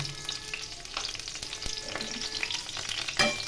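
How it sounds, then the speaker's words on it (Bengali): Dried chili, a bay leaf and panch phoron crackle in hot oil for a Bengali mixed-vegetable sabji, a steady close sizzle with scattered pops and a couple of sharper clicks. "তেল গরম করে এর মধ্যে দিয়ে দিলাম একটি শুকনো লঙ্কা, একটি তেজপাতা ও পাঁচফোড়ন"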